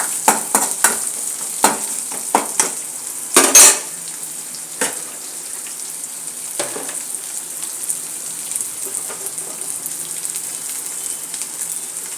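Curry leaves sizzle in hot tempering oil with cumin, mustard seeds, garlic and onions, a steady low frying hiss punctuated by sharp stirring clinks and a loud burst of spitting early on, no voices present.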